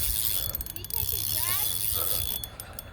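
Fishing reel on a drop-shot rig being cranked and its drag tightened while fighting a catfish, a quick series of close mechanical clicks and ratcheting over a few seconds, fairly faint, with some faint background noise.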